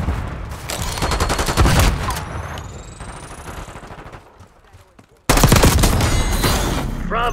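Grenade blasts and rapid gunfire in Black Ops 6 multiplayer, loud dense bursts that drop off midway, then a sudden heavy explosion and renewed shooting, with shouted voices mixed in.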